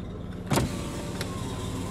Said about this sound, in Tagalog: At gamit natin tong kotse ni Chloe